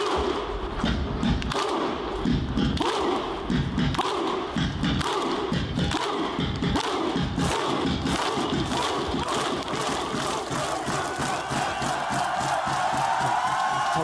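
Iceland football fans performing the Viking clap and chant, a huge crowd landing repeated heavy unison claps and shouted cries in a steady rhythm that keeps going, loud and close, with a roaring crowd filling the spaces between.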